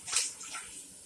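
Water runs briefly over an RO system sediment filter as it is rinsed, a close, short hissing splash under a tap.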